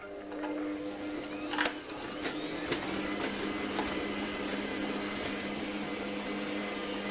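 A constant electric motor whir of a hand mixer beating butter for cupcakes runs throughout with a few brief clicks and knocks near the start.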